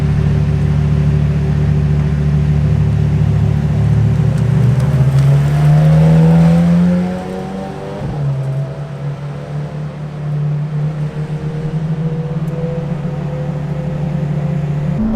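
A McLaren Senna engine in race mode idles loud and close, its drone sweeping up in pitch as the revs climb, then dropping back abruptly to a steady lower idle hum.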